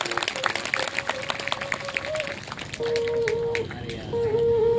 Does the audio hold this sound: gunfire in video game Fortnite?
no